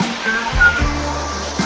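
Roadside waterfall near the Ketkawale Balaji temple outside Pune: a steady broadband rush of falling water fills the short stretch, with low rumbling tones and people talking over it.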